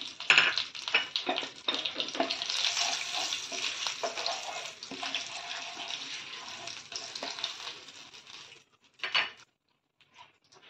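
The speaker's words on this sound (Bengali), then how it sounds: "এই তেলের মধ্যে আমি আরো 1 চামচ তেল দিলাম আর এতে দিলাম 1 চামচ জিরে ফোড়ন আর 2টো তেজপাতা" Cumin seeds and two bay leaves crackle and sizzle in hot oil in a home kitchen, a dense, steady frying hiss that fades out near the end, no talking over it.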